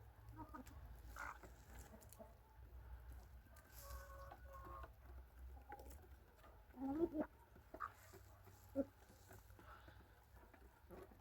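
White crested hens and a white rooster cluck softly on a farm, with a few sharper calls near the end against quiet background noise and some faint talk.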